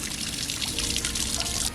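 Water trickles and pours steadily through soaked sphagnum moss in a small bottle, a continuous close hiss of running water with no talking.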